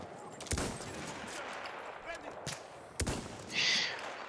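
Gunfire in the video game Battlefield 1 comes as a few sharp shots and cracks against a busy battlefield background, with a brief burst near the end and a player's voice mixed in.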